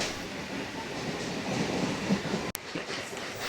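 A Sealdah to Dankuni local train rolls over a rail bridge above the Sealdah main line, giving a steady, loud rumble of wheels and carriage noise with one sharp click near the end.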